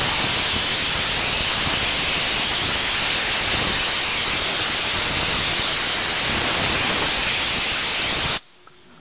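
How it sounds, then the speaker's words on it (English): An air compressor blows debris out of a Haban sickle mower bar in cold weather, a loud, steady hiss of rushing air that runs unbroken for about eight seconds and then cuts off sharply. "I'm just gonna get the compressor going, blow all this stuff out"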